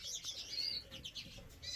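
Canaries and siskins chirp and twitter indoors in a birdroom, several high, quick calls overlapping, faint and fairly close.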